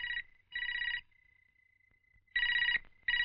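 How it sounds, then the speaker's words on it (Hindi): An indoor telephone rings in repeated electronic bursts separated by short pauses, with a faint steady tone in the gaps, heard close and clear with no talking. "मैं फोन उठा नहीं माँ, मैं उठा लेता हूँ।"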